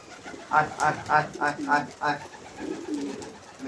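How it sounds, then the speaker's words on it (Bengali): Pigeons on a rooftop feeding on scattered grain make a series of soft, rhythmic coos, about five pulses close by. Someone talks over and between them. "কবুতরগুলো নেমে গেছে অলরেডি দেখেন কবুতর খাচ্ছে"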